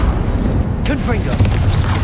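A Confringo fire spell blasts in Hogwarts Legacy, a dense booming burst with crackling rumble, heard under a voice shouting in the game.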